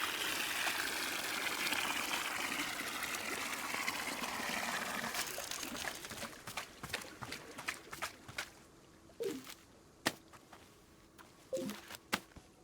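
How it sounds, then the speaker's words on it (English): Water pours steadily in the video game Wanderstop, a broad trickling gush filling for several seconds and then tapering into scattered drips and small splashes, fairly close and alone. "Gonna need a little bit more water. Let's just fill up a little bit."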